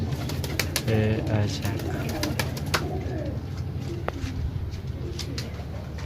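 Pigeons in a batch kept for sale coo in soft repeated calls close by, with scattered wing and cage clatter and someone speaking briefly in between.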